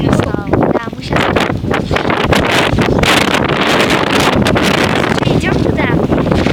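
Strong wind buffets the microphone with loud, continuous roaring gusts outdoors, while people speak intermittently underneath the rumble.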